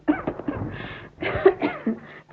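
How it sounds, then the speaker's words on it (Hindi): An older woman in a Hindi family drama coughs several times in quick, close, rough bursts with brief breaths between them. "आजकल मुझे खांसी हो रही है"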